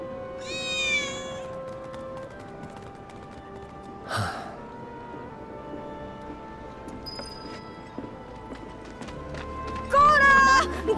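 A cat meows in Final Fantasy VII Remake, with a short rising cry near the start and another near the end, separated by a thump, a soft chime and quiet game ambience.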